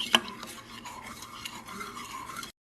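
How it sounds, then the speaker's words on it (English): A spoon stirs a cornstarch and pineapple slurry for teriyaki chicken and shrimp, making a steady, close scraping and swishing for about two and a half seconds, opened by one sharp clink. "You just want to mix this in and loosen up all of that cornstarch"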